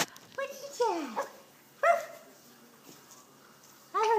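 A dog barks and yips several times in short bursts at home, close and fairly loud, with high whimpering tones between barks and a person talking over it.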